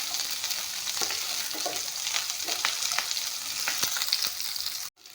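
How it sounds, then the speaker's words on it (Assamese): Chopped onion, garlic, ginger and chili fry in a pan, giving a steady close sizzle with soft scraping stirs throughout before stopping abruptly near the end. "এইখিনি অলপমান ভাজি ল'ম।"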